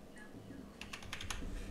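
Fingers type a username and password on a computer keyboard, with a quick burst of light key clicks following a short, quiet pause, faint and close.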